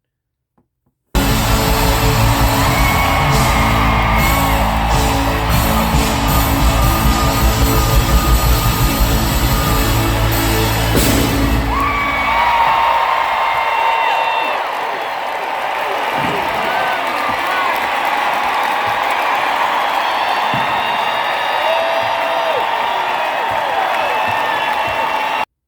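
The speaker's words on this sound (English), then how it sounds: "at the very end of the concert, confetti exploded from the ceiling" A crowd at a concert roars and cheers as confetti bursts from the ceiling at the show's end, loud dense noise with music that thins after the first half into a softer, ongoing crowd murmur.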